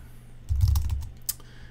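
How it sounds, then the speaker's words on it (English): Typing on a computer keyboard during a network configuration session, a brief flurry of several quick clicking keystrokes followed by one sharper key press, nearby and alone. "we'll type login"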